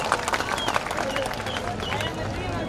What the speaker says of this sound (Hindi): इसके लिए एक बार फिर आप गहलोत साहब का तालियां बजा के स्वागत अभिनंदन करो